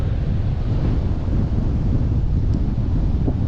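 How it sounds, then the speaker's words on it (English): Strong wind buffets the microphone in a steady, loud roar at a beach at Mapoon, Cape York, with faint low-tide surf beneath and no voices. "it's just so windy today"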